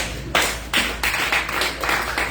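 A church congregation claps together in acclaim of the Lord, a steady wash of loud, pulsing applause that swells in rhythmic surges across the moment, with no voices on top.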